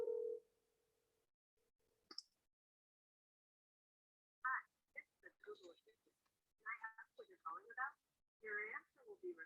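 An automated Google Assistant call-screening voice answers a phone call, with a tone and a click before a clear synthetic voice speaks in short phrases over a quiet line.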